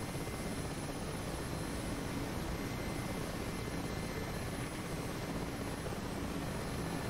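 Mi-8 helicopter in the DCS flight simulator, its engine and rotor giving a steady, dense droning roar that stays loud and constant throughout, with no talk over it.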